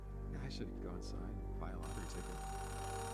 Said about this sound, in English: Payphone ringing in the wild?